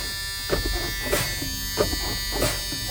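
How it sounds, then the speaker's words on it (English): Air brakes on a modern Class B truck are pumped repeatedly during a pretrip check. Four evenly spaced bursts of air hiss rise over a constant idling hum. "I'm going to pump my brakes until my parking brake tops out at approximately 40 psi."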